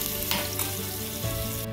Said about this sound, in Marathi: तेल गरम झाल्यावर हा कांदा जो वाटून घेतलेला आहे